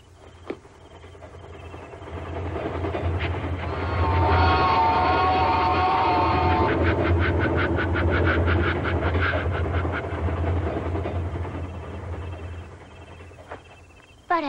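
A train rumbles past, swelling to a steady roar with rhythmic clacking of wheels over rail joints, then fading away.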